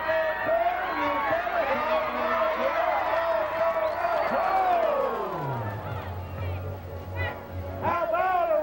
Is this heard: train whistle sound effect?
no